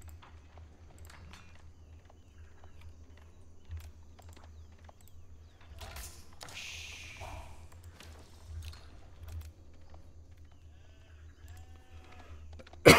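Sheep bleat faintly now and then in an Age of Empires IV match, soft scattered calls over a low steady game hum with light clicks and footstep-like taps.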